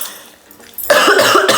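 A child coughs once, harshly and at close range, in a tiny 4 m² space after a short quiet moment, and no one speaks during it.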